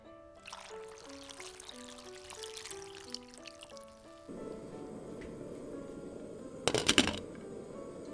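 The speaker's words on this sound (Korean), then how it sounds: "재료가 잠길 만큼 물을 부어주시고" A gentle melodic tune plays before water is poured over kimchi stew ingredients in a pot: a steady, close rushing stream, rising to a brief louder splash near the end.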